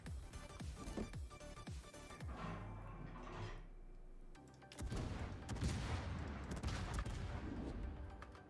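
Warship turrets fire salvos in World of Warships. Heavy booming shots and rumbling blasts roll in bursts, loud and dense, with a brief lull before another volley.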